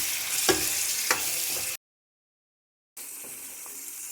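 Chopped tomato and green chilli fry in hot oil for a tomato rasam, making a continuous close hiss with a couple of light stirring clicks. The sound drops to brief silence, then the sizzle resumes.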